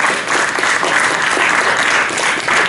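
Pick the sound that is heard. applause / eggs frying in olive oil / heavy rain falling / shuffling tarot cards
applause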